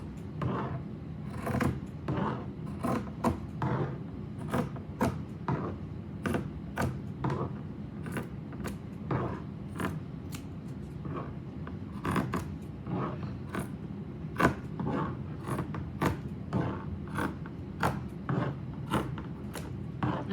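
Scissors cut through craft material for a no-sew hat, a long series of crisp, closely spaced snips and creaky blade scrapes at an uneven steady pace, near and fairly quiet with no talking.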